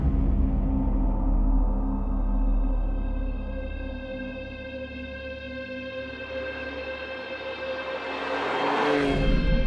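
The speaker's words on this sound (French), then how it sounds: "la Porsche 911 Carrera" A Porsche 911 Carrera drives past with a steady, tonal engine note that eases off midway, then builds into a brief louder rush near the end, heard alone and at moderate distance.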